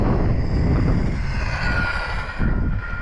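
Rlaarlo RC car motor running at full throttle in wind, a loud continuous high-pitched whine with steady roaring noise that holds for about two and a half seconds before the pitch drops away.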